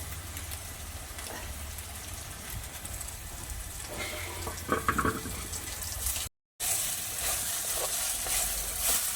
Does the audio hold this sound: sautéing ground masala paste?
yes